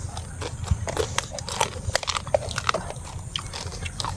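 Close biting and crunching on a whole cooked crab shell, sharp irregular cracks and chewing over about four seconds with a steady low background hum.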